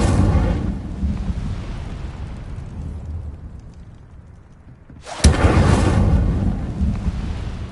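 Incendio fire spell cast in the video game Hogwarts Legacy, a roaring whoosh that fades to near quiet before a sudden loud burst of crackling flame flares up and sustains.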